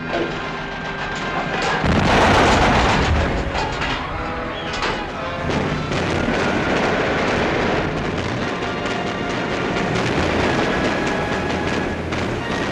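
Heavy naval guns fire in a WWII Pacific war film battle scene, a dense, loud, continuous barrage of booms and rumbling blasts with no clear pauses.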